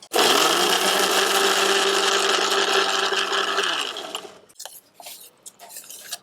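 A mixer grinder whirs loudly and steadily while blending gongura and tomato chutney for about four seconds, then winds down and stops, followed by faint clicks and handling noises.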